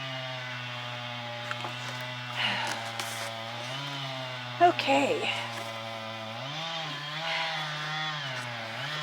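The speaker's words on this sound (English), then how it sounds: "So I apologize for the chainsaw noise." A neighbor's chainsaw cuts up felled trees, droning steadily in the distance with rising and falling revs, while a person speaks briefly nearby.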